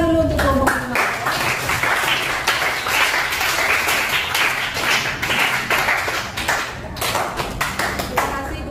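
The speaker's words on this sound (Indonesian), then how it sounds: "Beri tepuk tangan dulu untuk kelompok 5" Classroom applause for a student group after their presentation, a steady burst of children's clapping lasting throughout, with some voices mixed underneath.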